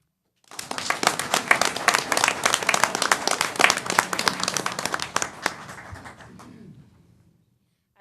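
Audience at a city council meeting in San Angelo applauds the Central High School speech and debate team: dense clapping starts abruptly, holds for about five seconds, then thins and fades out.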